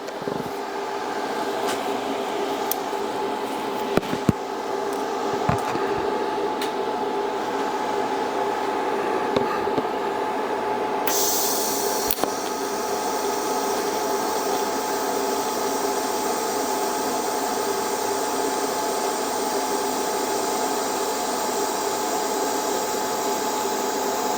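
TIG welding a butt joint by a first-time welder: a steady electrical hum and hiss runs throughout, with a brighter high-pitched arc buzz starting partway through and holding evenly to the end.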